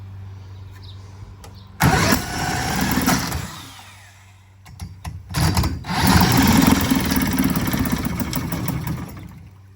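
An old boat engine under restoration cranks in two long bursts, a loud churning rumble that sputters without catching, separated by a short pause.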